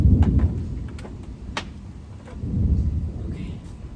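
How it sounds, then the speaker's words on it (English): Thunder rumbles during a storm outside a home with bird feeders, low rolling booms swelling and fading at moderate distance, with some faint sharp knocks mixed in and no talk. "All right, that's thunder"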